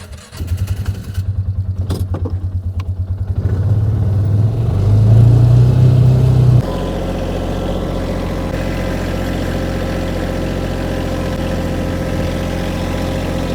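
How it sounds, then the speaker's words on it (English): A tractor engine turns over with a few rough pulses, then settles into a loud, steady, close running drone that holds evenly to the end, with no voices. "I think we're gonna run up and grab the tractor now."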